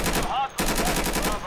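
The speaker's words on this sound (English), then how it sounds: "Then we had a bit of gunfire" Rapid bursts of gunfire in the shooter Insurgency, loud and close, with a short gap before another fast rattling volley.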